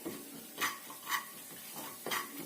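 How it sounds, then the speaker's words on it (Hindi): Dry ginger powder roasting in a pan on the stove, with faint sizzling and a few soft scraping stirs of a spoon against the metal, quiet and close with no talk. "पहले थोड़ा सा डाल दूंगी सूंठ, इसको थोड़ा सा भूनूंगी।"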